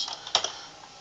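A quick burst of typing on a computer keyboard while a file name is entered: a handful of light, rapid key clicks in the first half second, then near silence.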